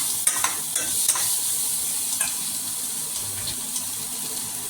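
Sandwich filling is stirred and mixed with chaat masala in a bowl, giving soft scraping and clinking strokes, close and moderately loud, repeating irregularly over a faint background hiss.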